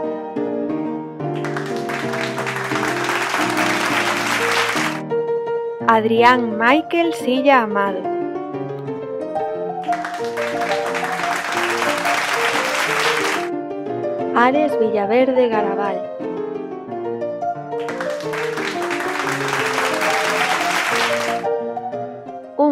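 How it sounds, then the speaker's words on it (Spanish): Applause for sixth-grade primary school graduates at a graduation ceremony comes in three sustained bursts, separated by a voice reading out names over soft background music. "Un fuerte aplauso para los graduados y graduadas de este curso"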